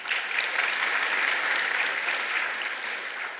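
Shareholders at an annual general meeting clap together to approve a proposal, a steady, moderately loud wash of applause that holds throughout and eases slightly at the end.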